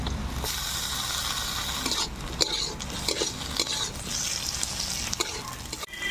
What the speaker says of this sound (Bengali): এখন আমি এর মধ্যে টমেটোগুলো দিয়ে দেবো।